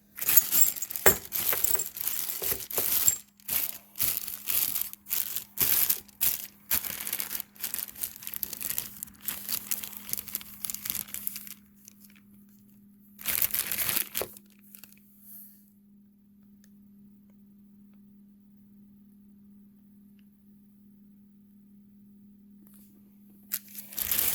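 Plastic hardware bag for Bilstein front shocks on a Chevy S10 being torn open, with crinkling, rustling and small metal parts clinking for about twelve seconds, then near silence under a faint steady hum, and a brief rustle near the end.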